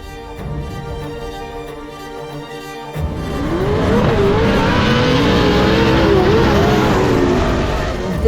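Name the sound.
racing trucks on track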